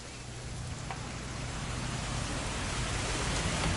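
Steady rain falls throughout in the video game What Remains of Edith Finch, a continuous even hiss with a low rumble beneath, no voices.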